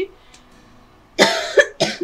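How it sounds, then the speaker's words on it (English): Three sharp, close coughs in quick succession after a quiet pause with a faint voice at the start. "This cough."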